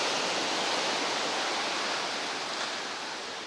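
Long rolling ocean waves wash onto a wide beach in a steady, dense roar of surf that stays loud and even throughout, with no voices.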